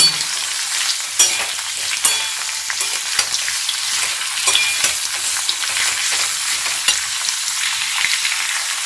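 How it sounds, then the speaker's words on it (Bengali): Radish pieces being stir-fried in a pan of oil for dal, a loud continuous sizzle with scattered clicks and scrapes of stirring, close up and without talk. "হালকা করে কষে নিচ্ছি মূলোটা বেশি কিন্তু ভাজবো না"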